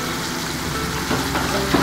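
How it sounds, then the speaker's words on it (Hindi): Tomatoes with ginger-garlic-green chili paste frying in a pan for biryani, a steady close sizzle with light stirring scrapes near the end, no talking. "टमाटर डालने के बाद अदरक लहसुन और हरी मिर्ची की पेस्ट डालने के बाद इसको 5 मिनट अच्छी तरह से भूनेंगे"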